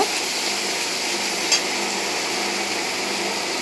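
A loud, steady sizzle of green chilli paste being stirred into a frying roast in a pan, a continuous dense hiss with a faint scrape of the utensil, no voices.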